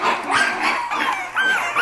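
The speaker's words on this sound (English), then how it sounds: "This is Fancy's litter of puppies." Seven-week-old puppies yipping and barking in quick, high, overlapping bursts, close by and fairly loud for a couple of seconds.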